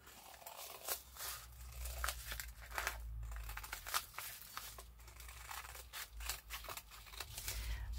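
Scissors cutting through a bubble mailer, a run of close, crisp snips and crinkly crunches in an irregular rhythm, with no talking.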